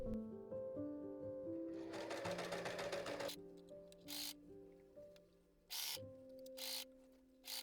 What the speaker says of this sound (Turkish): Dikiş paylarını overlock çekiyorum.